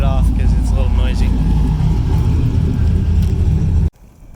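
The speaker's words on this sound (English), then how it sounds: "The turbo's still cruising. It's making noises." A turbocharged LS-powered Camaro IROC just after engine shut-off, a loud low rumbling whir of the turbo still spinning down, steady and close, ending in an abrupt cut to quiet.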